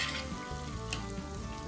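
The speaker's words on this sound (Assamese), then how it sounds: "এতিয়া ইয়াতে গোটা মগুটো দি দিম বিনছতে এতিয়া ধুনীয়াকৈ লৰাই দিম" Beans and whole moong dal are stirred in a hot pan, a quiet, continuous frying sizzle with soft stirring movements and no talking.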